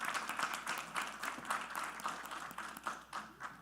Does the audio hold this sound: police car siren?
no